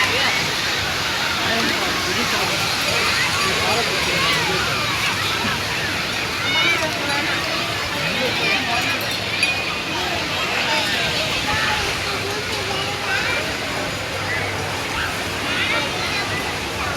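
Sea waves wash onto the beach at Velankanni, a steady rushing surf that goes on throughout, with a crowd of bathers chattering faintly underneath.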